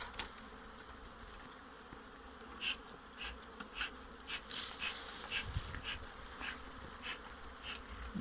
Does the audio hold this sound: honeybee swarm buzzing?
yes